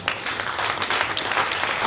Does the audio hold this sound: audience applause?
yes